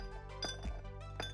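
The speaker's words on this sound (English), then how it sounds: "For this one, add some ice to a Collins glass or other tall glass." Ice dropped into a tall Collins glass for a rum snow-cone cocktail, a few quiet clinks and taps of cubes against glass, close and faint over a low steady hum.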